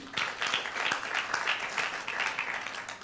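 A studio audience applauds honoured guests on a French-language Christian women's TV programme marking Mother's Day 2016, a steady, fairly close wash of clapping that holds across the whole stretch with no voices over it.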